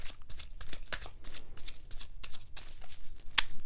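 A deck of tarot cards is shuffled by hand in a rapid, even run of close riffling slaps, with one sharp snap near the end and no talk.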